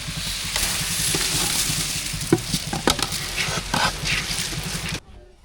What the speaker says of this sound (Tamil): வெங்காயம் தக்காளி எல்லாம் நல்லா வதங்கிட்டு இப்போ அரிசியும் பருப்பும் சேர்த்துக்கலாம்